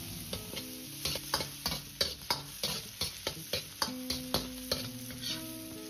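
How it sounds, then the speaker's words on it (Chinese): Strips of pork belly stir-fried in a hot wok over medium heat, with a steady sizzle broken by a regular run of scraping, clanking strokes of a spatula against the metal. "下入五花肉丝，先煸炒出香味，炒出多余的水分"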